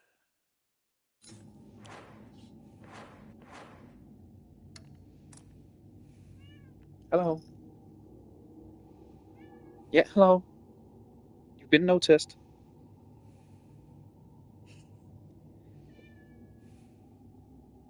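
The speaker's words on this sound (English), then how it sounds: "I wonder if you can hear her meowing." A pet cat named Lila lets out several short, close meows spaced apart over a quiet room tone while a person speaks softly to her in between.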